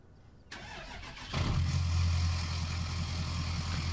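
A loud dump truck engine in Farming Simulator 17 cranks and roars to life, then settles into a steady, heavy rumbling idle with a strong low drone.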